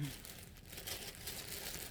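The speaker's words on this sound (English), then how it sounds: "sorry for the rustling" Plastic packaging around a skein of yarn crinkles and rustles as it is handled and opened, a soft, close crackling that lasts a couple of seconds.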